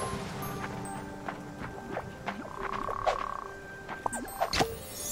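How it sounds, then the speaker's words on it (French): Repeated frog croaks from the Fae Farm video game, several short separate calls at moderate level over a soft ambient game bed, with brief clicks and a chime among them. "je te jure, j'entends une grenouille"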